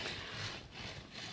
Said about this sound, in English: I am sawing cedar trees for goats right now.